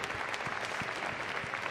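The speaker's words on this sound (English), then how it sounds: "Yes, extra applause, please," Steady audience applause at a Staffordshire Bull Terrier display team performance at Crufts 2014, a continuous even clapping from a crowd with no voices over it.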